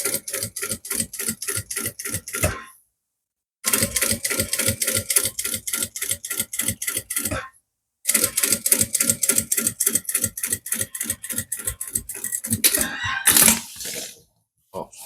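A sewing machine stitching a seam on a sublimated A4 tote bag sets up a fast, even mechanical rattle in three bursts, each broken off by a short pause, close and loud with no talking.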